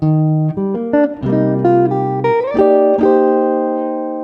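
Jazz guitar line built on the minor sound, a quick run of single plucked notes with slides climbing higher before settling on a sustained final tone, clean and close.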